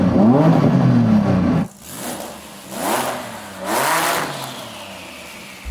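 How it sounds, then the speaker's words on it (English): A powerful SUV billed as the world's fastest revs up before a rolling race against a Ferrari: a loud, steady engine roar, then a sharp drop and two surging rev sweeps up close, with no talking. "And now Saeed is going to rev up that monster"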